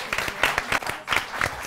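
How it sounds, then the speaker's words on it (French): Applause from an audience at a school competition between Lycée de Sangalkam and Groupe Scolaire Khadimou Rassoul Diourbel, short bursts of clapping that rise and fall in waves, moderately loud and close. "Tout le monde applaudit."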